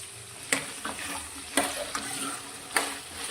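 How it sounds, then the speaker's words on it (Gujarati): Peeled pieces of three medium potatoes go into a pan of sautéed capsicum and fry, with a steady sizzle and several sharp spatula clacks as the pan is stirred. No one speaks. "કેપ્સિકમ આપણા સંતળાઈ ગયા છે તો અત્યારે મેં 3 મીડિયમ સાઇઝના બટેકાના આ રીતે છાલ કાઢીને ટુકડા કરી લીધા છે તે અંદર લઈ લઈશું"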